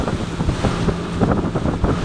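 Strong waves out at sea off Romblon, rumbling and washing continuously close to a small fishing boat, mixed with heavy wind buffeting the microphone; no one speaks.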